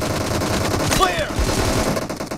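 Rapid bursts of automatic gunfire in the mobile game PUBG Mobile, loud and continuous over a short stretch, with a voice talking briefly alongside.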